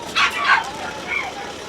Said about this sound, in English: That's the sound of puppies showing up